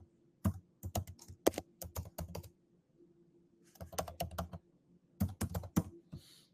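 Login details typed on a computer keyboard in quick bursts of crisp key clicks, with short pauses between runs of keystrokes, close and clear with no talking.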